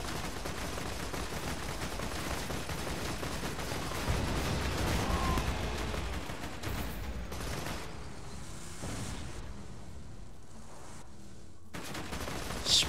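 Dense bursts of automatic gunfire from the Borderlands 2 shooter fill the scene, near and loud, with rapid volleys running nearly continuously and brief lulls before renewed firing.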